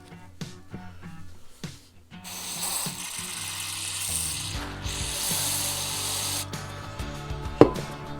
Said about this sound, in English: we'll blow it out with compressed air